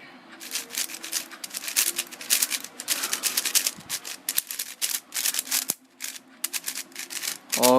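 A stickerless, all-plastic Moyu Bochuang GT speed cube is turned rapidly, giving dense, close clicking and rattling in quick uneven bursts with short pauses, and no talking.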